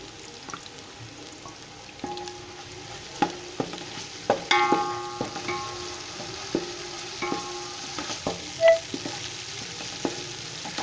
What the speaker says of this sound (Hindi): अभी हम इसमें शामिल करेंगे अदरक लहसुन और हरी मिर्च की पेस्ट